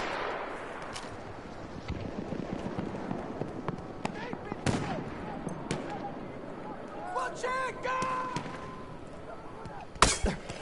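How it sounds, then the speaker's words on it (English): Artillery shells exploding in Battlefield 1 trench warfare, with several sharp blasts scattered through the clip and a loud impact near the end, mixed with battlefield clutter and other game sounds. "Artillery."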